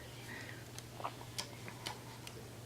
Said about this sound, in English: soft detents in her thighs, like click, click, click, click, click. Five clicks till it's out at a full 90